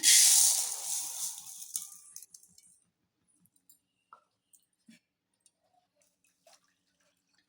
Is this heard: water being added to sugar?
yes